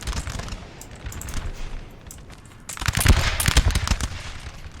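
Musket volleys firing in the Napoleon Total War battle game, a distant crackle of scattered shots followed by a louder, denser ragged volley of many rapid reports.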